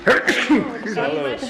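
A single sharp sneeze during a town board meeting, close and loud, followed by some voiced, murmured sound in the room.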